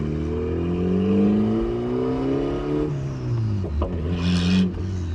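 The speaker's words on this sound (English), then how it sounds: "I'm gonna give some space here and see if I can get into boost." A turbocharged Honda Accord CG6 with a street tune pulls hard, its engine note climbing steadily in a loud, continuous rise, then briefly dipping and surging again as boost builds, heard up close from inside the car.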